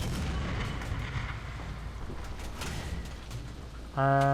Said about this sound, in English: The enemy is preparing for artillery barrage.